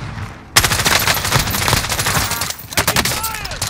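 Dense automatic gunfire erupts abruptly in a video game firefight, rapid overlapping shots rattling loudly and continuously for a few seconds before briefly easing, then resuming.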